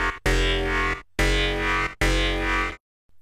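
A bass synth patch built in Native Instruments Massive plays three sustained, gritty notes, each ending in a sharp cutoff, with brief gaps between them and silence at the end.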